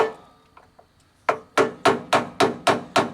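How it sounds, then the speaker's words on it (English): A few faint taps, then seven sharp, evenly spaced hammer blows on a metal Jeep door bushing sleeve ring out close by, each with a short metallic decay. "take your hammer and hit it"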